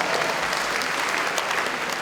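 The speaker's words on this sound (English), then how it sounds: "you can clap, I will clap with you" A rally audience at a socialist party event claps in dense, steady applause that fills the whole moment, loud and close with no pauses.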